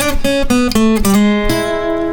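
Electric guitar playing a short blues lick from the C-shaped major pentatonic position, a few sliding, sustained single notes stepping downward then ringing out, close and clear with no talking.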